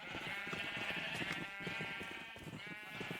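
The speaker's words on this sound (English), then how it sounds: "These are the sheep of doom." Sheep in a multiplayer survival game server bleat together in a dense, steady chorus of overlapping calls. The sound holds at an even level throughout, with no talk over it.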